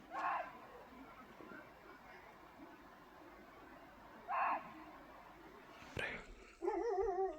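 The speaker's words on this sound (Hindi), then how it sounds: "लगातार भौंकना शुरू हो गया" A dog barks repeatedly at night near a gated camp in dense forest at Jim Corbett, with a leopard or tiger reportedly close by. The barks come in short separated bursts at moderate distance over a quiet nighttime background.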